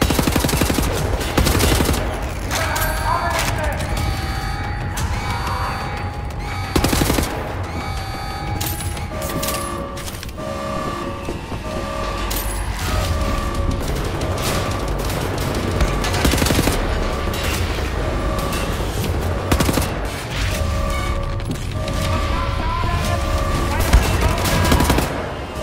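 Sustained gunfire in Wolfenstein: The New Order, with sharp shots and bursts spread through a dense, loud mix of game music and effects, and a voice speaking briefly over parts of it.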